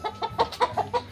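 Naked-neck chickens at a poultry farm in Nepal give a quick run of short, close clucks in a steady rhythm, with no talking.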